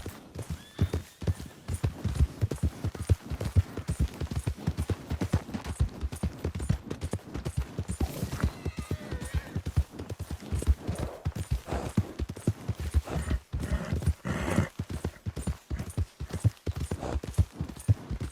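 Horse hooves clip-clop in Red Dead Redemption 2, a steady run of sharp, close hoofbeats over ground, with an occasional whinny and faint distant gunfire behind.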